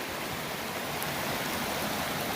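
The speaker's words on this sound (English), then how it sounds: "waterfall over here. I guess you could sit under there and get a bath." Small waterfall beside a mountain trail on the Colorado Trail, a steady broadband rush of falling water, continuous and fairly close, with no voices.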